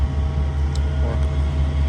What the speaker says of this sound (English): I'm sorry for the background noise. They got a refrigerator truck over there,